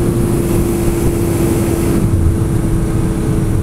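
A motorcycle engine with new jets runs steadily and loudly close by, a constant droning hum with a strong low-pitched tone, no voices over it.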